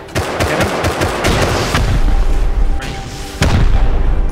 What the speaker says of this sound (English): Oh, he has a rocket launcher.